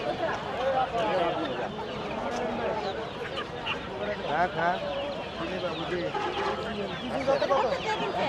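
Native hens and roosters at a busy weekly village market in Bangladesh cluck and squawk intermittently beneath constant loud crowd chatter and haggling voices.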